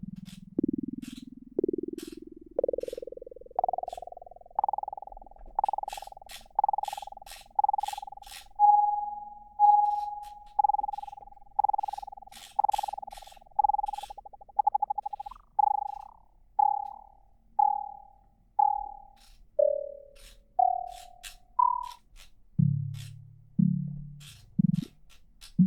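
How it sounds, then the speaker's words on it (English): Synthesized spring reverb percussive hits from a Zoia synthesizer pedal repeat in a steady rhythm, each a boingy, springy tone with a metallic reverb tail, sliding in pitch up and then down. "Or to get kind of spring reverb sounds as well."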